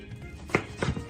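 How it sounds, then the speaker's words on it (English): A knife slicing grilled abura-age into strips on a board in a home kitchen, a few distinct close cuts. "Now I'll cut the abaraj into strips."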